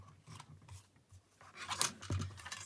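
Scissors trimming paper for a Stampin' Up! handmade card, a few soft close snips and slides of the blades through cardstock, quiet and isolated.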